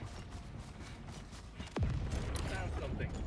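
Cannon turret firing in Helldivers 2 during a difficulty 9 mission against bot forces: a loud boom at about the midpoint rings out over dense battle noise of gunfire and mechanical clatter, with a falling whistling tone.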